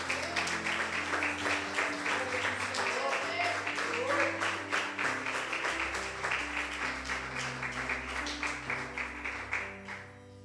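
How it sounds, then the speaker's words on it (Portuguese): A church congregation claps in steady rhythm along with sustained music, the massed hand claps forming a continuous pulsing patter that thins out near the end. "bata palmas para o Senhor Jesus."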